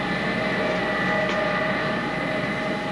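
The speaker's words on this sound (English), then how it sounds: "The 727 carrying Cooper and his fellow passengers swung out onto the airport runways in the early twilight." A Boeing 727 airliner swings onto the airport runway at twilight, a steady droning engine hum with sustained tonal whine, continuous and moderately loud throughout with no voices.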